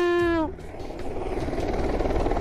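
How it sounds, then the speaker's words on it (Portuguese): A landing helicopter's rotor and engine give a loud, steady whirring rumble, opening with a brief tonal whine that drops away, then continuing as dense close churning noise. "Cara, o helicóptero pousando"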